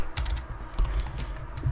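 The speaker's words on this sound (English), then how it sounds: "just gonna type the same thing" Rapid clicking keystrokes on a computer keyboard, close and steady for a short burst, with no talking.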